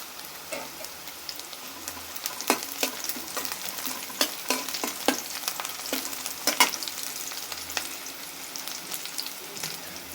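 Nigella seeds (black cumin) fry in hot oil, giving a soft continuous sizzle broken by sharp crackles and pops, heard close up and alone.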